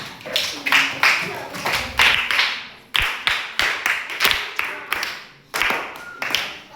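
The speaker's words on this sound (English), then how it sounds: "A clap for him. A clap for him." A classroom of students claps together for a classmate, with scattered, uneven bursts of clapping that come and go in several waves, close and fairly loud, with some voices mixed in.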